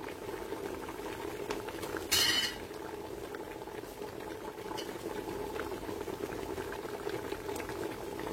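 Onions and garlic cooking in a pot give off a soft, steady bubbling and simmering, faint and continuous, with a brief clink of a utensil partway through and no talking.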